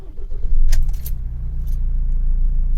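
A Ford Transit Custom van's engine cranks with a few sharp clicks and catches, then settles into a loud, close, low diesel idle rumble.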